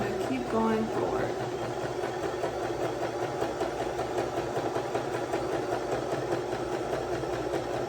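A new sewing machine stitches forward after a back stitch, its steady mechanical whir running continuously and fairly close throughout, with a brief voice near the start.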